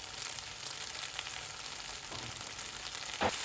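Chopped garlic frying in a hot wok for a homestyle Chinese cabbage chicken stir fry, a steady close sizzle running throughout with a brief louder burst near the end.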